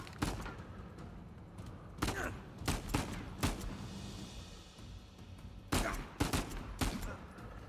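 Gunfire in Uncharted 4, with sharp separate shots and short bursts at irregular intervals, loud and close, with gaps of quieter ambience and a voice speaking briefly between them.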